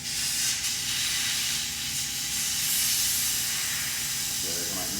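Steady loud hiss of air escaping from a Kaabo Wolf Warrior 11 scooter tire as its valve core is pulled out, a continuous rush lasting the whole stretch.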